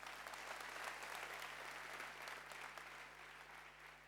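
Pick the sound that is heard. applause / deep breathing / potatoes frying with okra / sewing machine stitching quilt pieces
applause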